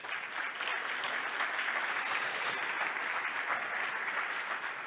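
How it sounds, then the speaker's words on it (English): A room full of people applauding steadily, a dense even patter of clapping that holds for several seconds. "A big applause for them"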